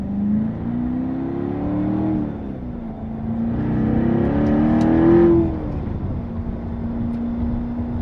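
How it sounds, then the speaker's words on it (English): A 2014 Chevrolet Corvette Stingray Z51 revs up and settles, with a deep, throaty exhaust note that rises to a peak and then drops back to a steady drone. "As you can hear, a little throatier note to the exhaust"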